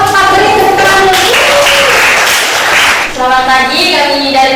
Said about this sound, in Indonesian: Kelompok 4 beri tepuk tangan dulu.